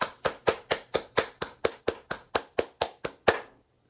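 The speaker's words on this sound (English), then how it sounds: "that's actually kind of a workout if you're going to clap straight 8th notes" Hand claps in a Khaliji rhythm pattern, about fifteen sharp, evenly spaced claps in a quick steady run, close and alone, ending on a slightly louder clap.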